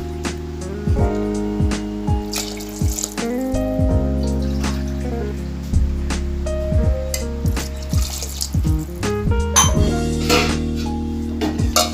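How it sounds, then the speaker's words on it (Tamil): Hot water poured into a cooking pot for rice while making vegetable biryani, a continuous splashing pour with clinks of utensils and bursts of bubbling, close and fairly loud. "அரிசிக்கு நாலு கப்பு தண்ணி"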